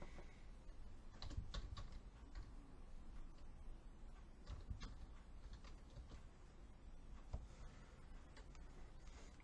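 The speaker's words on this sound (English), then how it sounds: "Yeah, I'll type it for you" Someone types on a computer keyboard in short, irregular bursts of soft, close clicks, with quiet pauses between the keystrokes.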